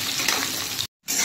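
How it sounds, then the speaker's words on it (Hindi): Carrots frying in a pan give a steady, fairly loud hiss that cuts out briefly near the end and then resumes. "सबसे पहले हम लोग गाजर को फ्राई करेंगे"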